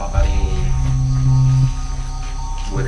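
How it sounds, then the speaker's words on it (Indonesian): Crickets chirp in a steady, continuous drone along a forest-like route at night near a villa among graves, with no voices over it. "itu sih jangkrik"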